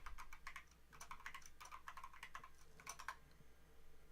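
A password is typed on a computer keyboard in quick, uneven clusters of light key clicks, close and quiet with no talking.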